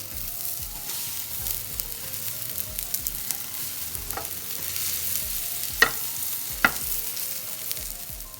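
Porcini mushroom steaks frying flesh side down in hot oil, giving a steady close sizzle with a few sharp pops and crackles, no voices.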